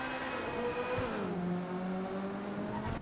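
A Coquette D10 sports car engine in GTA Online drones under load, its pitch dipping as the revs drop and then holding steady at a lower revving tone, loud and close with no talking.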